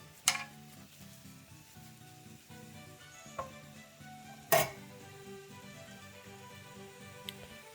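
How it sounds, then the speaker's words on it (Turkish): Almonds in their shells tumble into an almond cracker. A few sharp clicks and one louder rattling clatter midway stand out against a faint, steady hum. "Kabuklu bademlerimizi atalım."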